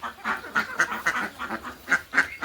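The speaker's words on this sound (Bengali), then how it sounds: "দেখেন, আমি হাঁসকে খেতে দিছি" Ducks quack repeatedly while eating a feed of wheat bran and rice flour, short nasal calls coming in an uneven series, close and fairly clear.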